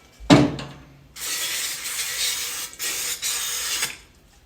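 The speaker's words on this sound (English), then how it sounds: "we're actually just going to spray them to clean" Several bursts of hissing spray cleaner onto 2021 KTM 350 SX-F dirt bike parts during an oil change, each a few seconds long with brief pauses between, preceded by a short mechanical click; close and fairly loud, no talking.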